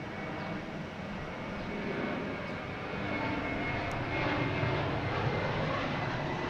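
An Aeromexico Boeing 737-800 jet airliner arriving from Mexico City roars with a broad, continuous engine rumble and hiss that swells slightly as it nears, heard alone.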